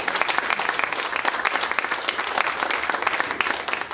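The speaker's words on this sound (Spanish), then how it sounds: "Por eso os pido un aplauso para la Asociación" Audience applause at a Spanish cultural festival presentation, loud dense clapping filling the room steadily and close, with no talk over it.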